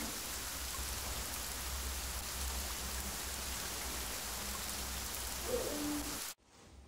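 Steady rain hiss from a theatre sound effect fills the scene as a dense, even wash of falling drops, continuous and moderately loud before cutting off abruptly near the end.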